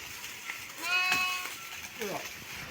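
Goats grazing among walnut trees in a hillside forest let out a clear, wavering bleat at moderate distance, with a shorter call after it, while someone talks over the scene.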